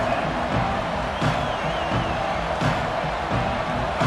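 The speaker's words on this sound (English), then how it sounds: "This crowd ready to make its presence known." A large football stadium crowd at Clemson roars in a broad sustained wash of cheering and whooping, heard from a distance with no clear break.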